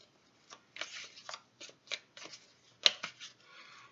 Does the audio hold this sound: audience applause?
no